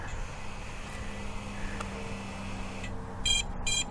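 A drone runs a fail-safe test, giving short bright electronic beeps in two quick bursts near the end over a steady low motor hum and room noise.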